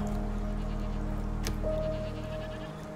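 Goats bleating in Endzone, a few short bleats over a steady droning game backdrop, with no talk.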